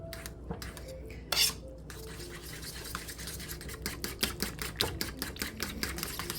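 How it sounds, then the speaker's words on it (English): A fork clinks and scrapes steadily against a bowl while stirring almond flour bagel dough with Greek yogurt, a quick, close, rhythmic series of light metallic taps and scrapes, with no talking. "Now let's take a fork, mix this together."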